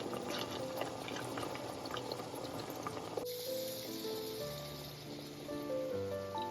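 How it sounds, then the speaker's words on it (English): Boiling water pours into a pot of vegan chili, a splashing, bubbling rush for about three seconds that cuts off abruptly, followed by quieter simmering and faint clinking tones. "I added the boiling water on top of everything."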